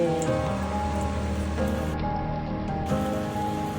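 Heavy rain falls continuously, a dense, loud, steady patter on surfaces close by, with no voices over it.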